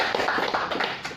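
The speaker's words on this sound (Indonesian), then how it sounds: "Tepuk tangan untuk BBC." A brief burst of applause: a dense patter of many hands clapping at once, fairly loud and close, lasting only a moment.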